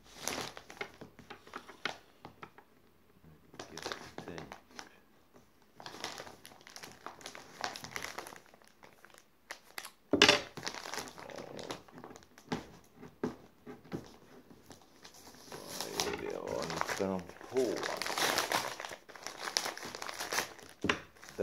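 Taped mail package being unwrapped by hand, with long stretches of close crinkling plastic and paper, sharp tape tearing, and rustling that grows busier toward the end.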